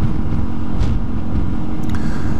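A motorcycle engine runs close by after a fresh oil change, producing a steady, loud, low rumble mixed with wind buffeting on the microphone.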